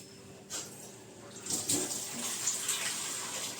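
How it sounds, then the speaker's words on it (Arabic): Water poured into cauliflower batter in a home kitchen, a steady splashing trickle that starts after a brief splash and runs on, close and fairly quiet, with no talk. "هنجيب ميه هنحطها طبعا لازم"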